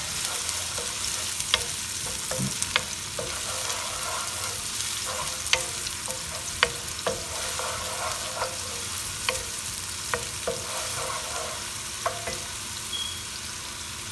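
Chopped onion frying in a pan as the base for cilantro lime rice, a steady close sizzle broken by sharp clicks and scrapes of stirring, with no voices.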